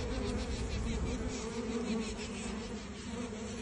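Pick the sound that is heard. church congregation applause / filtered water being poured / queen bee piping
queen bee piping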